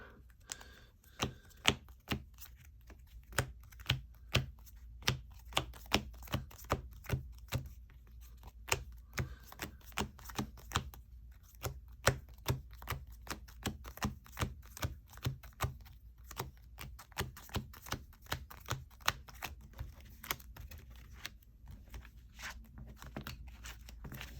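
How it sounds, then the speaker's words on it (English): Rapid, steady riffling and snapping of a trading card deck being power shuffled up close, continuing for a long stretch with no talking. "let me get a quick power shuffle in here"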